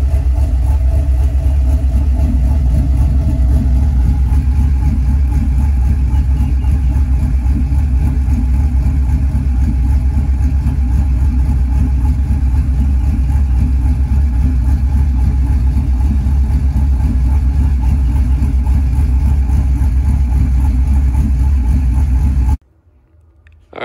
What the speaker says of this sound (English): Now let's see what it sounds like idling.